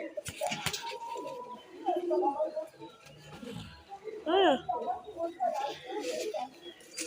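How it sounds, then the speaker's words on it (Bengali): Pigeons coo repeatedly up close, their soft throaty calls rising and falling through the clip, with a louder burst midway and some shuffling noise around them. "বিরাট ওরা পায়রাগুলো।"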